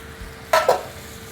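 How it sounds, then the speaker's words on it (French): Butter and flour cook in a saucepan into a white roux: two quick scraping stirs with a soft sizzle, close up over a faint background hum. "on réunit dans une casserole le beurre qu'on va d'abord laisser fondre et la farine"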